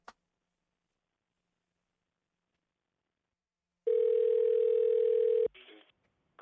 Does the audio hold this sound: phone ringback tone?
yes